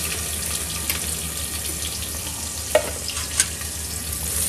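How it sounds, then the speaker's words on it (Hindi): Onions go into a hot pan for dhaba-style dal tadka and fry with a steady, even sizzle, with a couple of brief sharper crackles over the continuous hiss. "और सबको चला देंगे थोड़ा सा। और ये प्याज डाल देंगे।"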